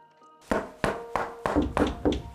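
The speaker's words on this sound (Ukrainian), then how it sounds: "Всі разом взялися гупати у двері." Fists pound on a wooden cottage door in six heavy, evenly spaced thuds, close and loud, each blow ringing briefly in the quiet.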